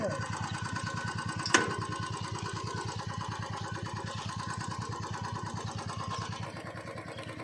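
A Royal Enfield motorcycle engine runs steadily at idle, with an even, rapid thumping beat and one brief sharp click early on, heard close and alone.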